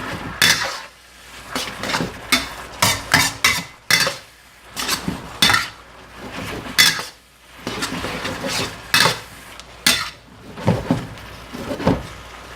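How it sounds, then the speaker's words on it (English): Beef lo mein noodles tossed in sauce in a pan give repeated irregular clanks and scrapes of utensils against metal, close and fairly loud, with brief quiet gaps between strokes and no talking. "Let's get the noodles nice and coated with that sauce."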